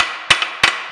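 A hammer tapping a center punch on metal during line shaft bracket installation on a restored metal planer, two sharp close metallic taps each followed by a faint rebound tick, over a steady background hiss.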